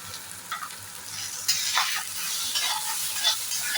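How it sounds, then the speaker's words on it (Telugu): Amaranth-leaf liver fry sizzles in a pan with coriander powder and pepper powder while being stirred. A steady, close hiss swells with each scrape of the spoon, and no one speaks. "వేసుకొని కాసేపు వేయించాలి"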